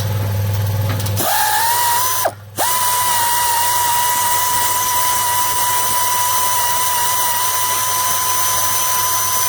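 Removing 13 mm bolts under a 2017 Ford Transit with a power tool, a loud continuous high-pitched whir that starts after a second, briefly cuts out, then resumes and runs steadily to the end, close and with no talk.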